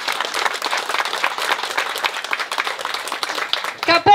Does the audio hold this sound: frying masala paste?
no